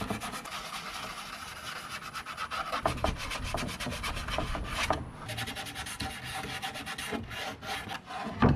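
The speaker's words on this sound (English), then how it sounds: "we're going to sand around here just a little bit more" Sandpaper rubbing over a handmade wooden birdhouse around drilled holes, a steady run of quick, close scratchy back-and-forth strokes that varies slightly in pressure and never stops.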